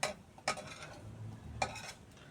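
Chinese sausage (kun chiang) fries in a pan with water, giving a steady soft bubbling sizzle punctuated by three sharp clinks of a utensil against the pan.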